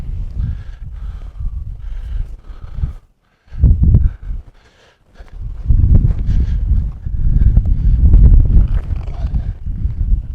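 Horse hooves thud on soft ground in a steady rhythm, with wind rumbling across the microphone throughout.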